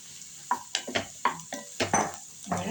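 Potatoes sautéing with reddened onions in a pan, a low sizzle under a run of distinct spoon-on-pan scrapes and taps, roughly eight strokes in under three seconds, no talking.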